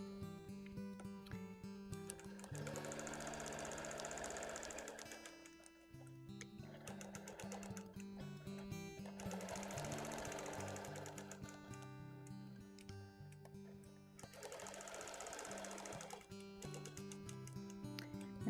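A Bernina sewing machine runs in three sustained bursts of rapid quilting stitches, each lasting several seconds with short pauses between, steady and close.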